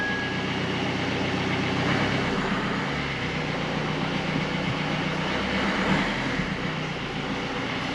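A yellow Jeep Renegade engine runs steadily and close by as the vehicle is put in gear and driven, a continuous low rumble with broadband road and drivetrain noise throughout.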